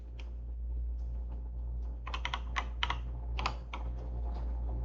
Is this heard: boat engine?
no